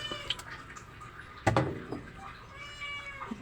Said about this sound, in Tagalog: napakaingay ng pusa ko guys